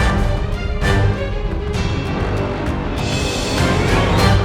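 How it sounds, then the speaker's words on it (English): Full orchestral tutti from a Symphobia 2 patch with added trumpets and brass plays pirate-style music, sustained loud chords swelling over about four seconds with no voices. "a Symphobia 2 Tutti patch, or a full orchestra patch"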